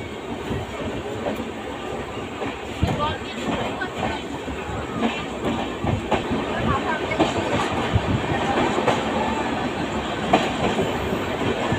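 A moving passenger train leaving Bolpur Shantiniketan, with steady rumble and rhythmic clickety-clack of wheels on rails close by, occasional bumps and rattles throughout, and faint voices mixed into the carriage noise.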